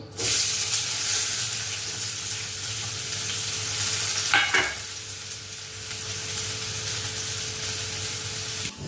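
Onions sizzle steadily in a hot pan, a loud continuous crackling hiss with a brief stir or scrape midway.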